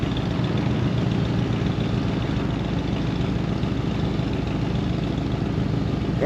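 A Suzuki Samurai's engine idles in neutral with a steady, low rumble that holds constant and close throughout, with no voices over it.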